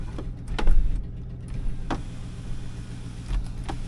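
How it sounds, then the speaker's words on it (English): The power sliding rear window of a 2014 Ram 1500 Laramie gives a short motor whir with a few soft clunks and taps, faint and close over a low engine idle inside the cab. "Power sliding back window."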